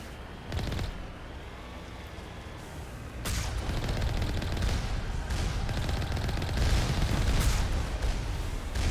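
Gunfire in Mass Effect 1 (Legendary Edition): a steady stream of rough, crackling shots and booms that thickens after the first few seconds, with no talk.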